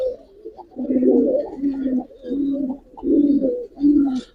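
Giribaz pigeons at a loft give a run of low, throaty coos in about five rolling bursts, close and fairly loud, with brief pauses between phrases and no talk over them.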